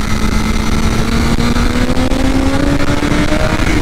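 A BMW S1000RR M package in race mode with quick shifter screams around the Interlagos track, its engine note loud and sustained, steadily climbing in pitch as it accelerates close to the rider.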